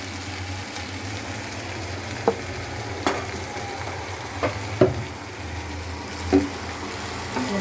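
Potatoes fry in oil in a pan with a steady, close hiss and sizzle, broken by a few scattered clicks and scrapes as the pieces are stirred; nobody speaks.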